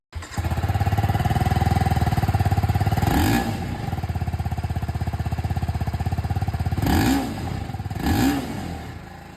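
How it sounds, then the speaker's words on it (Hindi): A TVS Apache RTR 310 motorcycle idles loudly with a fast throbbing beat, then its engine is blipped up in three short revs, one early and two close together near the end, with no voices. "अब सुनते हैं दोस्तों यहां पर RTR 310 को।"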